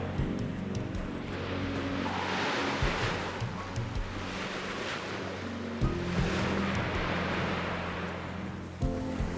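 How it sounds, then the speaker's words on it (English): Waves wash onto the north beach of a desert island in a continuous, moderately loud surf rush that swells and recedes, with some wind noise on the microphone. "This is the north side of the island, so this is the North Beach."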